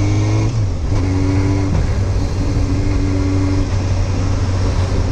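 Motorcycle engine running loud and close on a road ride, revving with a brief dip and pitch change as the rider shifts gears, no talk over it.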